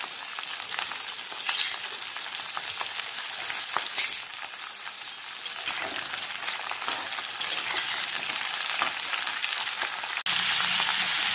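Mixed vegetables and jackfruit seeds frying in a pan for pui shak chorchori, a steady close hiss of sizzling with soft scraping stir strokes and an occasional faint clink, no talk.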